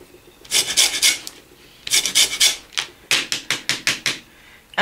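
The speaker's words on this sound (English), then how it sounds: "you just rub it slightly on the grater. So just move it around, around, around until you get all the zest off the lime" A lime is rubbed over a kitchen grater for zest, making close, rasping scrapes in quick rhythmic strokes. The strokes come in three bursts separated by short pauses, with no talk.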